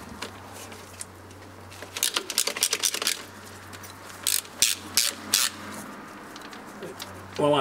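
Cranking the band apply mechanism on a GM automatic transmission from a Rolls-Royce Silver Cloud gives close ratcheting clicks in two bursts, a quick run of ticks followed by several slower, heavier clacks over a low steady hum.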